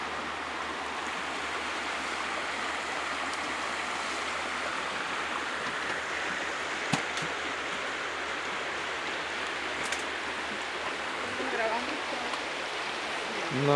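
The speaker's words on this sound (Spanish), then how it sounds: "Esto es la agua en el río." Clean river water flows in a continuous, even rush that stays close and moderately loud throughout, with a few small knocks and a faint bit of sound near the end.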